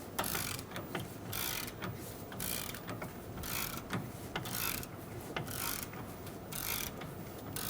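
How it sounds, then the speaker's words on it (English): Ratcheting and clicking of a wrench tightening front engine mount bolts on a 2003-2008 Honda Pilot, a steady run of close mechanical ticks and clatter that continues without talk. "Snug the bolts down and make them nice and tight."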